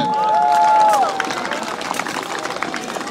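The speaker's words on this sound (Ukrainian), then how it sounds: "Ваші облески!" A festival crowd claps and cheers after a medieval knight fight at an outdoor medieval-culture festival in Bukovina, the dense applause rolling on while a loud voice calls out over the start.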